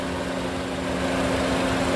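A 2011 Honda Civic FD1 1.8 manual idles with a steady low hum and a constant tonal drone, smooth and even throughout with no talking.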